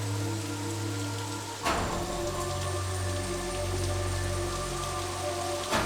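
Steady rain falls with an even, hissing wash and a thick low rumble. It runs without a break, swelling slightly louder partway through, and no voices are heard.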